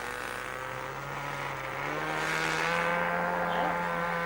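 A model airplane engine in flight at a model aircraft club, heard as a steady, buzzing drone that rises slightly in pitch partway through and carries on alone, moderately distant.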